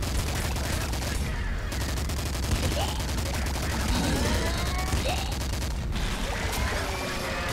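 Dense, continuous bullet-weapon fire in Nuclear Throne, rapid cracking shots layered with chaotic explosions and whizzing effects that keep up a loud, unbroken barrage for several seconds, with some talking underneath.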